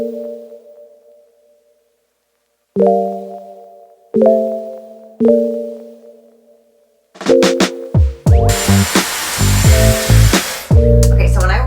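Dyson Airwrap with the rough dryer attachment switching on and drying hair. Short beeping tones come first, then a loud steady blowing roar, with brief interruptions as settings change.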